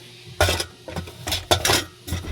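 Shrimp paste (bagoong) is washed in a bowl, heard as several close clinks and clatters of utensils against the bowl in quick irregular bursts with short gaps between them.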